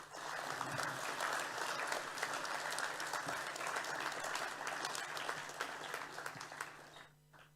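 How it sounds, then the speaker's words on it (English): A school graduation assembly audience claps for boys on stage, a steady full round of applause with a low hum underneath, fading out over the final second. "Can we have a round of applause for the boys on stage?"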